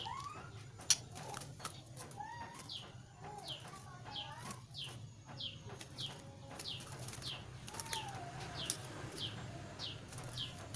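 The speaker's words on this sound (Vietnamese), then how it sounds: "Do chim mua về cho nên là chưa thuần, không còn nhảy nữa." A newly bought white-rumped shama in a cage, with repeated short wing flutters and scuffling against the bars, plus scattered sharp chirps and whistles from nearby birds over a steady low background hum.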